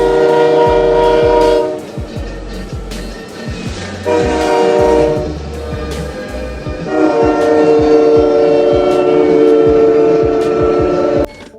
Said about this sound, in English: the blaring horn of an oncoming train